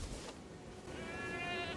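Sheep bleating in the video game Elden Ring, a wavering tonal bleat rising over a busy game soundscape in the second half, fairly close and moderately loud, with no talk.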